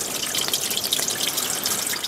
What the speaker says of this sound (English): A babbling brook eroding its way down the hillside.